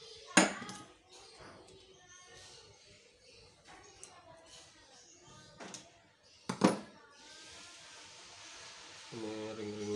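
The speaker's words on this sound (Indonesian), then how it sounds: "Coba kita pakai obeng aja." Metal tool clinks and taps while a screwdriver works on a Peugeot 406 starter motor, with two sharp clanks standing out over quieter scraping and handling, then a steady mechanical hum rising at the end.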